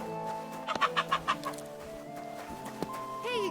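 Hens cluck in the video game Kingdom Come Deliverance II, a quick run of four or five close clucks followed by a lone cluck and a rising squawk, over quiet game music.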